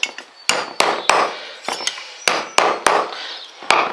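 A hammer strikes hard again and again on Ford Expedition center hub caps resting on a block of wood, each sharp close impact followed by a brief metallic ring, landing at an irregular pace with short gaps between blows.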